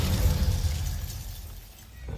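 Spell impacts from Glacius and Descendo in the video game Hogwarts Legacy: a rumbling, shattering burst that is loud at first, then fades out over about two seconds, with no talk.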